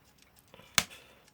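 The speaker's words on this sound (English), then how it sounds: "That was the sound of the movement popping into the cardboard." The movement of a Hungarian MOM alarm clock pops out into a cardboard piece during disassembly: one sharp, close snap that rings briefly, set against faint handling noise.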